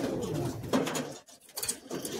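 Madrasi high-flying pigeons coo close by, several overlapping throaty calls with wing rustles and a brief quiet gap midway.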